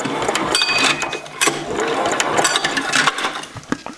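A Yanmar L70-style 6 hp diesel clone engine primes on a cold first start, making rapid mechanical clicking and chattering bursts with brief pauses, close and fairly loud.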